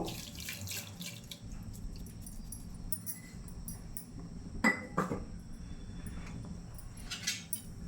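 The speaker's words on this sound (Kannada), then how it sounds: "ಅದು ನೀರು" Water running and splashing into a pot while cooking ghee rice, a fairly quiet continuous flow with a few soft clinks of utensils, no talking.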